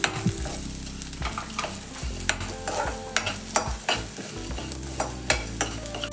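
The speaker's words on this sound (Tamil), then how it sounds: "3 வரமிளகாய். இது நல்லா பொன்னிறமாக ரோஸ்ட் பண்ணிக்கலாம்." Dried red chillies and coriander seeds roast in a pan for a pepper chicken masala, with a soft continuous sizzle and frequent close scraping stirs.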